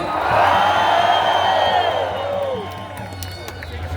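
A big outdoor protest rally crowd in Belo Horizonte shouts and cheers in a loud swelling roar with whoops and some clapping, fading gradually while a steady low hum persists.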